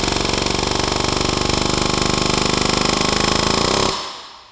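Impact wrench removing a part during a Honda Pilot timing belt service, hammering loudly and steadily for about four seconds before spinning down and stopping.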